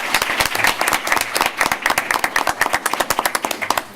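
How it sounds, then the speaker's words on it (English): Audience at a school board of education meeting applauding the students, dense rapid clapping from many hands that holds steady and close throughout, with no voices. "A round of applause for all the students one more time."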